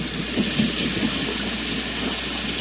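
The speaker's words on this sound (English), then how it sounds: "Nice wind and rain there." A Renpho white noise machine plays a steady wind-and-rain track, a dense even hiss of falling rain with soft low rumbling, constant and unvarying throughout.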